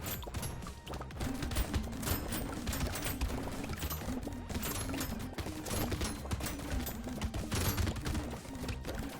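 Rapid, continuous volleys of medical gun shots ripping through swarms of aliens in Brotato, a dense, steady stream of sharp crackling hits with constant loudness and no speech.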